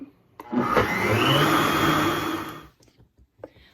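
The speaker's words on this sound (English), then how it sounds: "I'm using a Vitamix, so I don't know what you're using, and if all the settings are the same. So I am just gonna start it." A Vitamix blender whirs loudly for about two seconds as it blends ice cream base, a steady high motor roar that starts abruptly and cuts off, followed by faint clatter.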